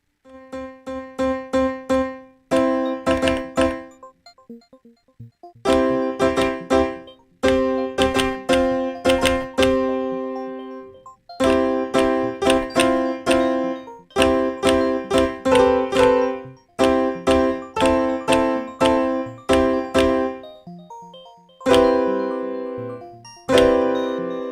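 Piano tones from a MIDI controller into Bitwig, played as a series of bright chord stabs and repeated notes in short rhythmic bursts, clear and close with brief pauses between phrases.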